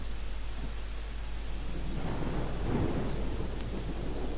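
Thunderstorm with rain in Genshin Impact: a steady wash of rainfall with a deep, low rumble of thunder swelling in the middle and fading, constant and fairly close, without any voices.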